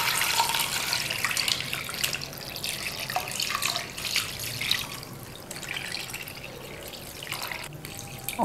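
Water pours steadily into a cooking pot holding washed chicken with salt and turmeric, about 2.5 litres going in, a continuous splashing rush with no voices.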